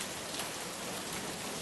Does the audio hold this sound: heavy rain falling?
yes